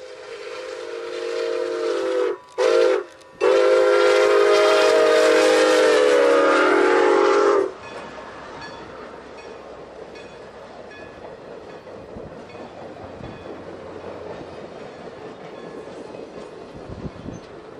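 Steam locomotive 261 on an excursion run in Minnesota and North Dakota sounds its whistle loudly and nearby, two short blasts then one long sustained one, before fading into the steady rumble of rolling cars.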